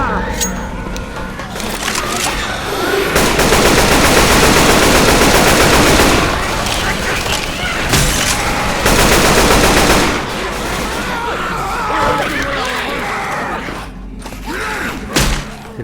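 Loud, rapid bursts of assault rifle fire in a video game come in long sustained volleys with short gaps between them, mixed with thuds and mechanical clatter, while players talk over the action.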